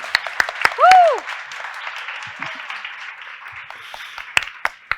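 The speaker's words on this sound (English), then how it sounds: "Could I ask you all to please join me in giving a round of applause for our brilliant panel" An audience applauds a panel at a forum's panel discussion: steady, dense clapping that fills the room, with a loud cheering whoop near the start and some voices mixed in.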